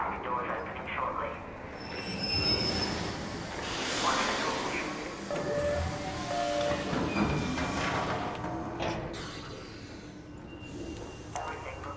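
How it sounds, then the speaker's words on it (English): Game train in Arc Raiders pulling into a station, a broad rumbling and rushing wash with brief tonal squeals and hisses midway, steady and fairly loud throughout, with a voice speaking over it. "Train arrives. Doors opening shortly."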